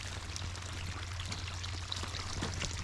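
Irrigation water pours steadily onto a crop field from a center pivot, a constant rushing splash with a low droning hum beneath it, moderately close and unbroken.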